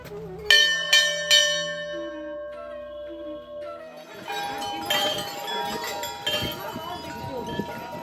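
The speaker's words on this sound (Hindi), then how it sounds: "चारों ओर टंगी घंटियां" Temple bells at Ghorakhal Golu Devta temple: several metallic bell strikes ring out clearly with long shimmering decay, followed by a denser clatter of many bells jangling together, near and fairly loud.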